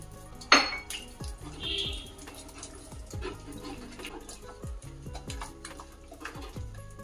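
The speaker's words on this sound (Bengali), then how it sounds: "বেসন একটুখানি গুলে নেব, ফুলের বড়াটা করব।" Gram flour batter with salt, turmeric and water is whisked in a bowl, giving a series of light metallic clinks and scrapes of a spoon against the dish at an uneven rhythm, close and fairly quiet, with one sharper knock near the start.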